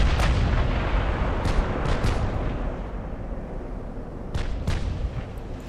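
Battleship guns fire in the naval game Ultimate Admiral: Dreadnoughts, with loud booming salvos rolling over each other and several sharper cracks standing out within a dense roar of naval battle.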